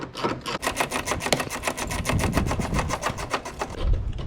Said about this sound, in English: we're going to stick our ratchet in from behind and start loosening those 2